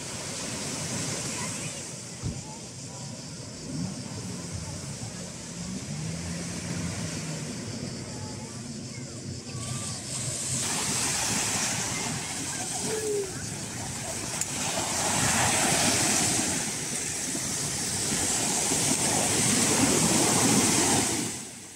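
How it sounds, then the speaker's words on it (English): Surf washes ashore at Platis Gialos Beach near Argostoli on Kefalonia, a broad rushing roar mixed with wind buffeting the microphone, quieter at first and swelling into louder breaking waves in the second half. "Platis Gialos Beach is located near Argostoli, the capital of the island of Kefalonia,"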